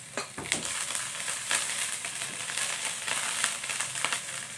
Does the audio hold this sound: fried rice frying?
yes